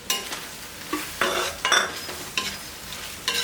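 Cornflour slurry hits a hot, sizzling pan for soya chilli manchurian, then a spoon stirs through it with several bursts of loud scraping and hissing in uneven strokes, close and with no voices.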